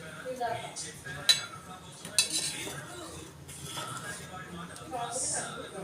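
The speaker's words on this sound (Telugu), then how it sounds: "మనము కొంచెం గంటతో తిప్పుతుండాలి" Horse gram rasam boiling in a pot while being stirred with a ladle, giving soft metallic clinks and scrapes over a low bubbling background, with a voice talking over it.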